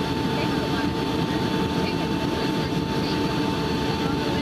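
A US Airways Boeing 757-200 airliner on landing approach into Philadelphia, heard from inside the cabin as a loud, steady engine and airflow roar with a constant hum throughout.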